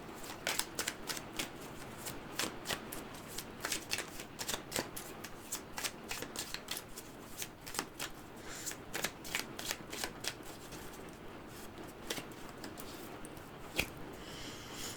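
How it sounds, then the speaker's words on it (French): Tarot cards are shuffled by hand in a steady, continuous run of crisp riffling and flicking, close and moderately loud, with no voices over it. "Je vais encore tirer une carte."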